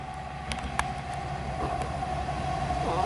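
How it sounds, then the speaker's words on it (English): A freight train arriving outdoors in the cold, a steady low rumble with a sustained tonal whine and a few sharp clanks, slowly growing louder as it approaches. "this freight train is arriving"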